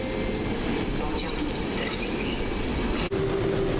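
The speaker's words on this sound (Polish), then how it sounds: "i rozruch EP09002 z Intercity Silesia" An EP09 electric locomotive hauling the Intercity Silesia pulls away from a platform at Warszawa Zachodnia, a steady rumble and rising tonal hum of the traction motors close by.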